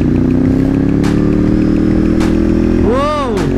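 A Ducati 848 Evo sport motorcycle engine hums steadily up close, then revs up sharply with a rising and falling whine near the end, with some talking underneath.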